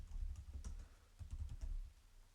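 Keys tapped on a computer keyboard while a terminal command is entered, a short run of quick, fairly quiet clicks in two bursts with a pause between them.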